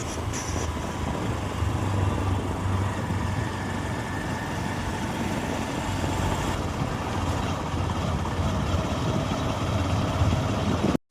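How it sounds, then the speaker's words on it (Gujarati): A farm tractor's engine runs steadily and loudly throughout at close range, a continuous low rumble with no talking, on a trip to a relative's shop during groundnut and pigeon pea spraying work. "ટ્રેક્ટર લઈને આવી ગયા છીએ માસાની દુકાને"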